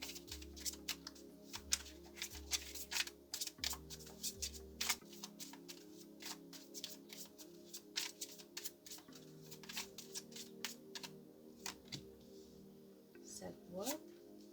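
Tarot cards shuffled in repeated bursts of crisp flicking riffles and taps, close and fairly soft, with a low voice humming or murmuring faintly underneath.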